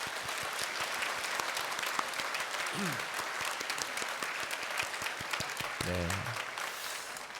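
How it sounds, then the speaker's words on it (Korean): A church congregation at a Sunday Thanksgiving service claps together in a sustained round of steady rapid applause, with a brief spoken reply and a short vocal sound rising over the clapping. "우리 하나님께 한번 감사의 박수 올까요?"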